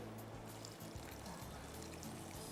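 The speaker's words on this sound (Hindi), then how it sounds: "इसमें डालेंगे थोड़ा सा पानी" Water pours into a handi of achari chicken curry, a steady continuous splashing pour lasting a couple of seconds, close and moderately quiet with no talk.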